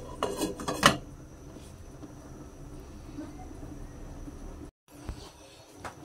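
A lid goes onto a cooking pot at home with a quick metallic clatter and clank at the start, followed by quieter kitchen ambience and a few faint knocks.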